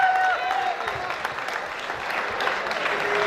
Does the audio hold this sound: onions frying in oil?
no